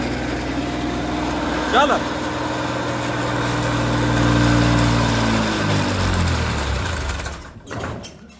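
A Massey Ferguson 241 tractor engine runs hard at full 2,400 RPM during a four-brick pulling test, a steady loud drone that sags in pitch toward the end before a brief disturbance, with voices talking over it.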